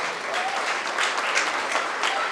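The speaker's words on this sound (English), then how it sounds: "Let's give all our champion exhibitors a big round of applause." Spectators at a 2024 Paulding County Fair 4-H goat show give the champion exhibitors a round of applause, a dense, steady patter of many hands clapping at moderate distance in an arena.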